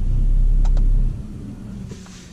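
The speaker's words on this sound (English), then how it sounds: "Let's turn off the engine." Mercedes-Benz AMG estate car with a 400-plus horsepower engine idling with a steady low rumble, then cutting off after about one second and leaving only a quieter residual hum and a few faint clicks.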